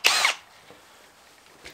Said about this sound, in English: I'm gonna drill on an angle right in the center of this, so the head of the screw is gonna sit flush with